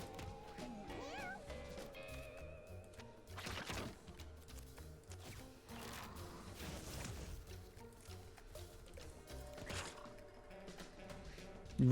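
A cat meows repeatedly in the Mewgenics video game amid game sound effects and background music, with faint player talk at times; the mews come in short bursts rather than a steady rhythm.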